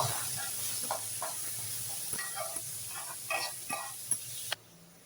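Sliced onions sautéing in a pan for egg biryani, a steady soft sizzle and hiss with faint scattered clinks and taps, quiet throughout until a sharp tap near the end.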